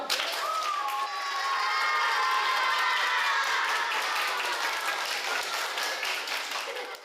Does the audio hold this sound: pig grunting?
no